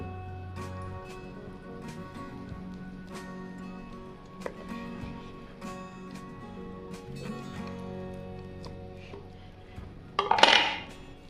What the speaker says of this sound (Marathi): आता आपण जरा कापून घेऊ गोल आकारात आपण कापून घेऊ